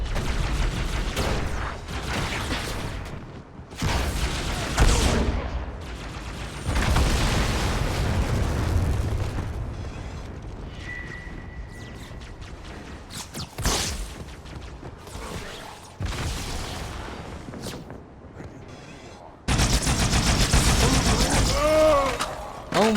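Explosions and gunfire from the Halo 2 video game burst in loud, dense bursts across the whole stretch, with sharp blasts and rumbling booms separated by brief quieter gaps.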